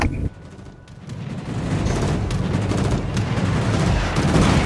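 Naval gunfire in World of Warships during a clan battle: a sudden loud boom opens, then a dense, continuous rumble of shelling and blasts builds and holds steady and heavy to the end, with no talk.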